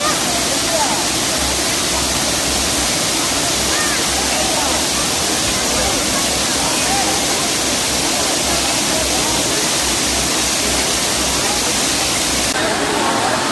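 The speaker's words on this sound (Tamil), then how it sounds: "அவர்கள் அங்கு அருவி போல் ஆர்புரித்து கொட்டிய தண்ணீரில் குளித்து மகிழ்ந்தனர்" Water gushes over the Kodiveri dam like a waterfall, a loud, constant roaring rush that never lets up, with a voice speaking over it.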